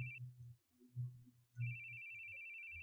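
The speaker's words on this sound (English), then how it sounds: "Where are you hearing a phone ringing?" A phone ringing in the horror video game The Boogie Man: a steady electronic ringtone that sounds briefly, breaks off, then returns and holds, alongside low murmuring voices.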